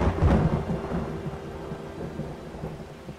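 A thunderstorm in 7 Days To Die opens with a loud low thunder rumble that slowly fades into a steady hiss of rain. There is no talking.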